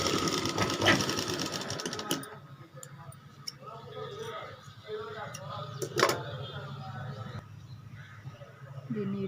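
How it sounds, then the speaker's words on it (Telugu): A sewing machine stitches a blouse back neck design, a close mechanical whir that starts loud and continues in steady runs, with someone speaking over it. "దీన్ని ఈ విధంగా స్టిచ్ చేసుకోవాలి."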